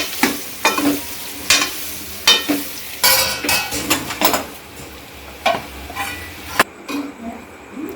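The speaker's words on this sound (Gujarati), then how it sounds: "હવે આપણે બધા પાત્ર આની અંદર ઉમેરી દઈશું સારી રીતે મિક્સ કરી દઈશું" Patra pieces are stirred in a frying pan with spices and chillies, giving repeated scraping and clattering strokes over a steady sizzle, close and moderately loud.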